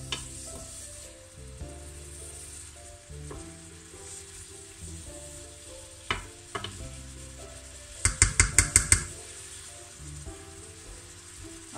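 Leeks and endives stewing in oil in a pan give a steady, moderate sizzle, with a few soft utensil knocks and a quick run of louder clatters toward the end.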